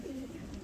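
A breeding pigeon gives a single short, soft coo from inside its loft box, heard close and alone.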